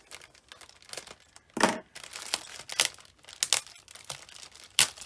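Crackly plastic crinkling in irregular bursts, close by, with a few louder rustles as the bag is handled.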